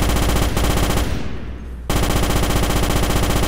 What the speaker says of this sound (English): The rifle overheats after prolonged use, so fire in short,